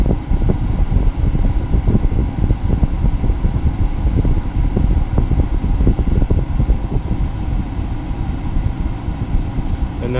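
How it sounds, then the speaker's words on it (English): Air conditioning fan running in a Nissan Leaf, a loud, steady whooshing drone with constant airflow rumble that holds evenly throughout. "Air conditioning kicked on."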